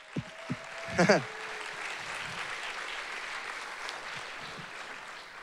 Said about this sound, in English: Everyone give them a massive round of applause.